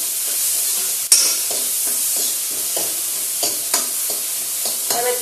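Ridge gourd frying in a pan is stirred steadily, with a continuous sizzle and a sharp utensil knock near the start, then several soft scraping strokes toward the end, close and clear with no voices.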